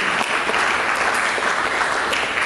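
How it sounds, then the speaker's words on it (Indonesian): Congregation in a church service applauding together, a dense, steady wash of clapping from many hands that holds at an even level throughout, with no speech over it. "Berikan tepuk tangan bagi Yesus"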